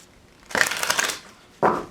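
Tarot cards riffle in a quick shuffle lasting under a second, followed by a short second burst of card shuffling, close and fairly loud.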